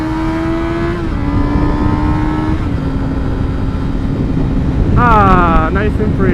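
A motorcycle ridden with a passenger on her first ride, its steady engine drone dropping a step in pitch with each gear change, then climbing in a sharp rev near the end, all under constant rushing wind noise.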